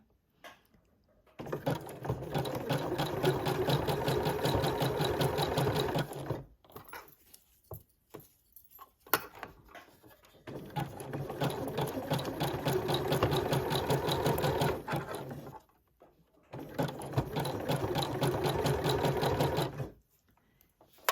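A sewing machine stitches a coiled fabric rope bowl in three long, fast, rhythmic runs, each lasting several seconds, separated by short pauses with faint handling sounds.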